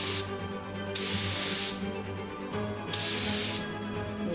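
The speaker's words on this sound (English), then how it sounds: "I'm wasting a lot of paint spraying next to it" Spray gun applying yellow paint to a car, two long hissing bursts of about a second each separated by a short pause, close and loud over a low background hum.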